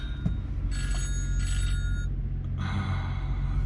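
A telephone rings indoors in short repeated bursts, three clear rings separated by brief gaps, over a steady low engine hum, with no talking.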